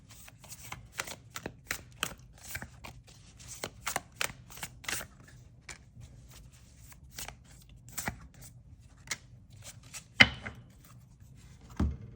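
Oracle cards handled and shuffled at close range, a steady run of quick crisp riffling flicks and soft rubs, with a louder slap near the end, no talking.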